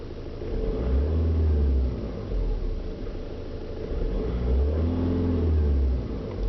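A 2012 Skoda Rapid Elegance engine idling and being revved, a low, smooth rumble that swells in two or three rises and settles back, heard close and alone with no talking.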